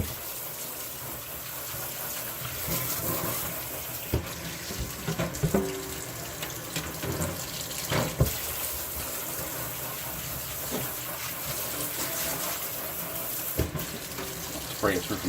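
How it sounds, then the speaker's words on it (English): Continuous rush of water from a kitchen sink sprayer spraying into a sink while cleaning an exhaust fan, with splashing and occasional clatters of handling throughout. "Hit it with the old sprayer."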